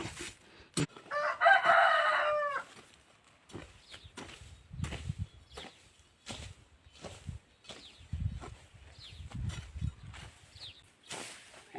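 Chickens cluck and a rooster crows repeatedly at a Thai farm where organic fertilizer is made, with short bursts and scuffling footsteps between calls, close and fairly loud.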